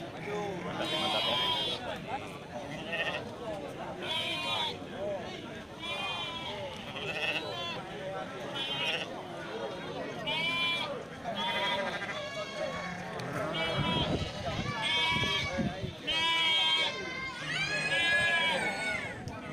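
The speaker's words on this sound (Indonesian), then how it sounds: "Ya, ini domba guys." Sheep bleat repeatedly amid a busy crowd at the Geurugok livestock market, where goats are also traded, with people talking loudly throughout over the animals.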